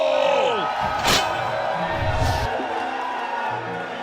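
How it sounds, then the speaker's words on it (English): Arena crowd at the Clash Royale Crown Duel Tournament finals cheering and chanting, with an announcer's voice, a sharp slam and a swell of roaring voices rising and falling behind the event audio. "You can hear the crowd chanting, Backstab, Backstab."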